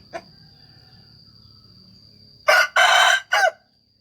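A breeding fighting rooster, about eight months old and three kilograms, crows loudly nearby in three bursts near the end, after a short quiet stretch with a faint earlier call and low background murmur.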